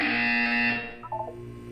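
Buzzer in the video game Portal 2, a loud, harsh electronic tone that sustains for most of a second and then cuts off, leaving a faint chiming tail.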